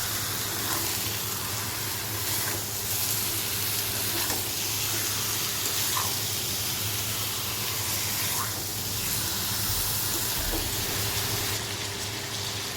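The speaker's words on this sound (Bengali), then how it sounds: "ভালো করে একটু নাড়াচাড়া করে নেবো মাংসটাকে।" Chicken pieces sizzling loudly in a hot pan, a dense continuous hiss with faint scraping as the meat is stirred, close up with no talk.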